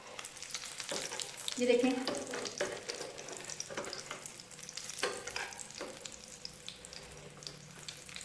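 Potato cutlets stuffed with chicken sizzle steadily in oil over medium-low heat, a soft continuous crackle with scraping as they are turned, while a voice briefly speaks.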